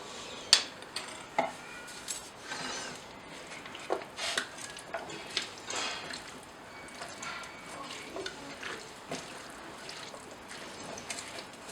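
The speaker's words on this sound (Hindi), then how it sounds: "अब हम इसको अच्छे से मिक्स कर लेंगे।" A spoon mixes chana chaat with red chili powder and chaat masala in a bowl, giving soft repeated scrapes and light clinks at an irregular pace, faint and close.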